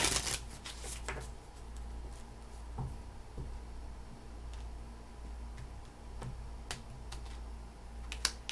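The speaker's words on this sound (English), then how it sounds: "Last shuffle, please." Tarot cards being shuffled during a reading, a steady papery riffling with soft clicks and snaps under a low hum, moderately close and fairly quiet.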